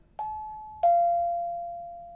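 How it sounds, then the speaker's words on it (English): A two-tone ding-dong doorbell chime, two clean struck notes with the second ringing out long and slowly fading, clear and alone against a quiet background. "Ding dong."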